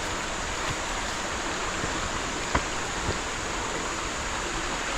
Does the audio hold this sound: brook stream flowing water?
yes